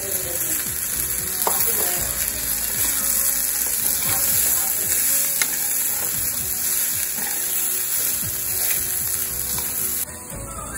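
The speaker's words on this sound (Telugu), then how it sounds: "సో ఇప్పుడు బాయిల్ చేసుకున్న కార్న్ యాడ్ చేసేస్తాం" Boiled sweet corn added to a hot frying pan for cheesy corn: a sustained crackling sizzle with scattered pops and stirring scrapes, close and even, easing slightly at the end.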